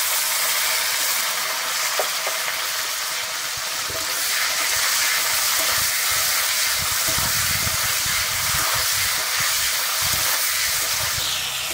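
Chopped tomatoes hit hot oil in a pan for a Bengali fish curry, giving a steady, loud sizzling hiss that holds throughout with faint clinks and stirring underneath, no talk.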